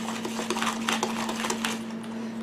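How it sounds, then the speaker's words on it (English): Wire whisk beating heavy whipping cream in a bowl for a banana pudding cake icing, a quick run of light clinking strokes against the bowl at close range with a steady hum underneath. "I'm going to whisk this up"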